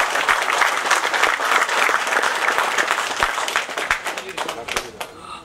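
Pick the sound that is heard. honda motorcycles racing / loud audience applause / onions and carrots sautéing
loud audience applause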